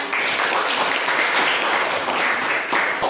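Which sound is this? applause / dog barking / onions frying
applause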